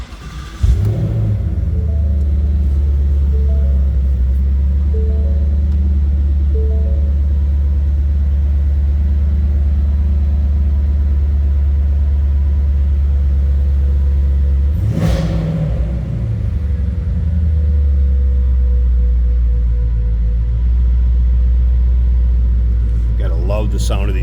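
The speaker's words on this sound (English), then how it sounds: "Let's go ahead and fire this up so you can hear it run." A 2023 Ford Mustang Shelby Super Snake convertible starts and idles with a deep, loud rumbling engine up close, blipping the throttle into a swelling rev at the start and again midway before settling back to a steady burble.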